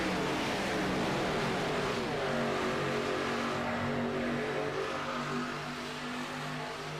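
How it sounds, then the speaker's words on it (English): Race cars at the Grand National roar past together, their engines a steady, droning whine that rises and falls as they pass. The sound is distant and continuous, with no voices. "There's race cars going on."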